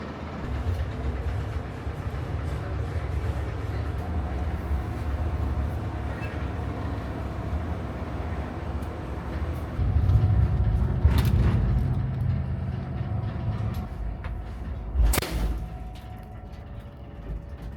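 A 20-year-old suburban train on the Circum-Baikal Railway rumbles steadily on its rails from inside a carriage, rolling slowly out of a station, with a low droning hum, a louder stretch of rolling, and a few sharp clunks.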